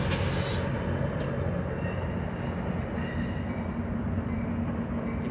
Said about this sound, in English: Here comes Amtrak 5 meeting with